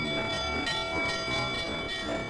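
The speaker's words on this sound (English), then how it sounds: "Her brass bell rang." A brass bell on a toy train rings steadily, with sustained metallic ringing tones over a busy background of toy rumble and clatter, no talking.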